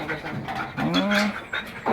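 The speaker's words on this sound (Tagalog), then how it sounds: "Laki ng aso." A dog pants in quick, breathy bursts close to the microphone, with a brief whine and some faint background voices.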